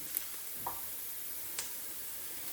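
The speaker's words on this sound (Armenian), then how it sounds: "տապակի մեջ մի փոքր ինձ մոտ ձիթայուղ եմ հավելացնում եւ տապակելու եմ սոխը" Quiet, steady sizzling of onions frying in oil in a pan, with a couple of faint clicks and a soft stirring scrape.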